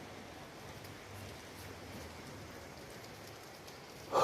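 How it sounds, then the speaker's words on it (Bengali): Morning rain falling steadily outdoors in a rural natural setting, a soft continuous hiss of drops at an even moderate level, with a brief louder burst right at the end. "আল্লাহ রহমতের বৃষ্টি বর্ষণ হচ্ছে।"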